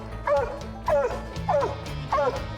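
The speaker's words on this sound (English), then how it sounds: "Hear the difference in her track bark there." A national champion coonhound gives four evenly spaced, drawn-out track barks while trailing outdoors, each a rising-then-falling howl at moderate distance, with steady low background noise.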